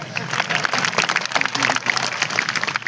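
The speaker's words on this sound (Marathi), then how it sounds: "आणि आता जोरदार टाळ्या वाजवा माझ्यासाठी." An audience at a motivational speech claps hard and continuously, a thick roar of many hands that surges unevenly without pause for almost three seconds.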